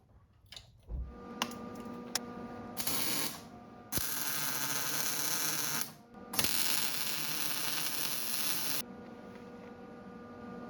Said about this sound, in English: I'll put a tack here, and then weld it on both sides.